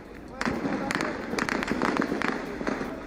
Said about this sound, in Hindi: प्रदर्शन कर रही जनता पर फायरिंग